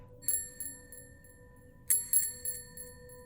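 Small bicycle bell rings in a narrated cave story: two short bursts of bright metallic dings, a single ring then a quick cluster a moment later, faint over a quiet hum.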